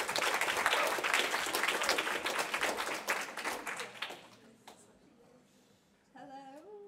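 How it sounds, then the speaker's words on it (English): Audience applause at a student comedy society improv show, steady clapping for about four seconds that thins and dies away, followed by a voice speaking. "Let's clap them in."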